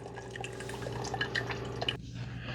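Hot rinse water runs through a Keurig K-Duo coffee maker with no K-cup during descaling. It trickles and drips steadily with a low machine hum and stops abruptly near the end, with no talk.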